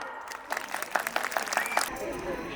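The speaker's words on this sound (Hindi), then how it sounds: "जोरदार तालियां।" An audience at a school annual function claps as performers are welcomed onto the stage, a moderate burst of applause that builds over a couple of seconds while voices carry through the hall.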